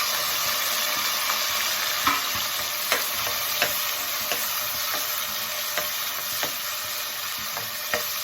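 Green turkey berries sauté in a pan with dried chilli and curry leaves, giving a constant sizzling hiss with occasional soft taps and scrapes of a spoon stirring.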